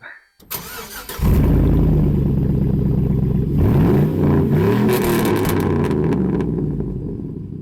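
A step-side pickup truck engine cranks and starts, then revs loudly with a deep, rumbling open-exhaust roar that rises and falls before settling into a throaty idle.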